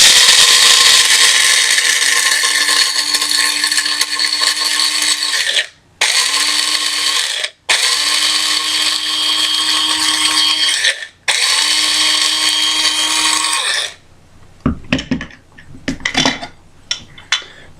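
A Krups electric coffee grinder whirs loudly through Caldi's coffee beans in several sustained bursts, each cut by a brief pause, before stopping and leaving a few light rattles and clicks.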